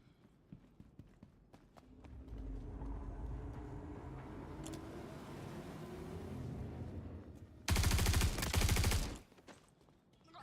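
Ship guns in the Star Citizen space game fire a loud rapid burst of repeated shots for about a second and a half, following a low rumbling engine drone and scattered faint clicks.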